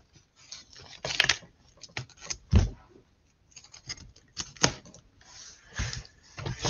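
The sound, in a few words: cutting open a vinyl record package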